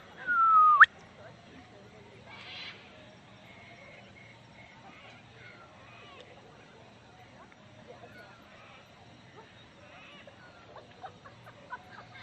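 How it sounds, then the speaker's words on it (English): An eastern whipbird at Orient Point boat ramp at sunset gives a loud, close, rising whistle ending in a sharp whip-crack, followed by faint distant calls and quiet background. "My favourite bird sound has to be the eastern whipbird."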